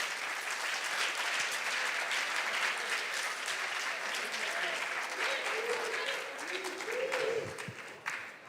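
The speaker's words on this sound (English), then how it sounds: "Please clap for our contestants." Steady applause from a school audience at a national junior science and maths quiz semi-final, a continuous wash of clapping for contestants, with faint voices talking under it toward the end.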